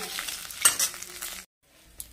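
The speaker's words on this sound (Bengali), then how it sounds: "মাছের মাথাটা পুরো ভালোভাবে ভাজা হয়ে গেছে" Fish head, from a snakehead fish, frying in oil in a wok, with clattering stirs and sizzle that stop abruptly partway, leaving near silence before a faint return of sizzle.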